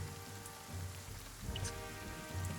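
Steady rain patters on surfaces in a dense continuous wash, with a few louder individual drops standing out and no voices present.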